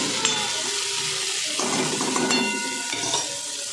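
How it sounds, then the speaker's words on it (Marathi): Tomatoes sizzle and sauté in a hot pan for a palak chole dish, a steady crackling fry with occasional stirring scrapes and clinks, close and continuous throughout. "आता टमाटरही चांगलं परतून घ्यायचं"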